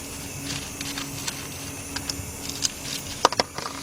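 Small sharp metallic clicks and taps come from a terminal nut and lock washer being removed from the starter of a 2007 Chevy Impala 3.9, sparse and close against a quiet garage hum.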